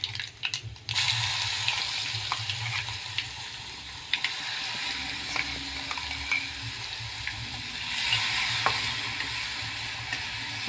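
Ground chilli frying with fenugreek seeds and a pinch of hing in hot oil, a steady broad sizzle with occasional clinks and a brief scrape, no talking.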